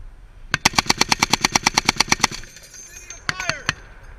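.50 caliber machine gun fired from a vehicle during a mounted live-fire exercise: a loud, evenly spaced burst of about fifteen rapid shots, then a few scattered distant reports and pings.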